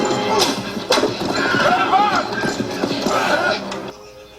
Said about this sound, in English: Seven horses.